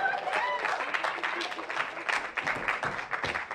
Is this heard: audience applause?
yes